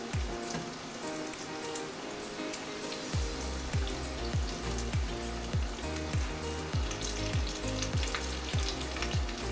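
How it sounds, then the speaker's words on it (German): Breaded chicken schnitzel frying in oil in a pan gives a steady, crackling sizzle, with rhythmic low thumps layered over it after the first few seconds, no voices. "Und dann ab in die Fritteuse, also frittieren in die Pfanne."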